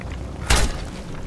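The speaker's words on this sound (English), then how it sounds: "there's the explosion. I got the mutation that causes explosion." Explosion triggered by a mutation in the game Fallout 76, a single short booming thud with a burst of crackle in the middle of a quiet backdrop, brief and punchy.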